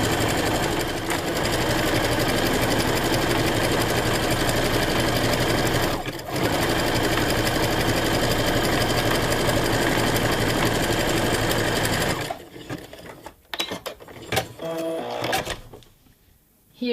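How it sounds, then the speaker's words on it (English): A sewing machine runs a zigzag stitch in a steady, fast mechanical chatter that goes on for about twelve seconds, then slows into a few short bursts and stops. "set my machine to zigzag and let's make simply a line of a zigzag stitch"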